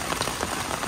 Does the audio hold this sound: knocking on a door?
no